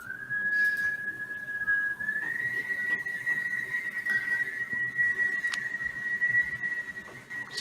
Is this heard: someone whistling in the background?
yes